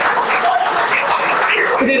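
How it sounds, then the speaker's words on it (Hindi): Students at a campus youth day event give loud welcoming applause for guests, a dense, continuous burst of clapping from a crowd. "मेरा निवेदन है कि जोरदार तालियों से"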